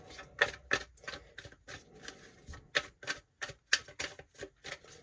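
Rapid bursts of tarot cards being shuffled, several riffling flurries with short pauses between them, close and crisp with no talking.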